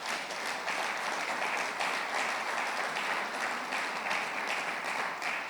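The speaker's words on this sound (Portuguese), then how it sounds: "Dá uma salva de palmas para o Senhor Jesus." A church congregation applauds for Jesus, a dense, steady wash of many hands clapping at an even, loud level throughout, with no speech over it.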